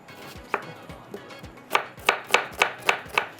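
A knife chops tomatoes on a board, the cuts sparse at first, then falling into a quick, regular run of sharp, close taps near the end.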